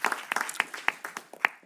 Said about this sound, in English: Let's give a big round of applause for Professor Giuseppe